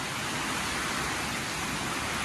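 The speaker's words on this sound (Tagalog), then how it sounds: "Grabe yung ulan" Heavy rain pours down steadily, a dense, constant hiss with no voices or breaks.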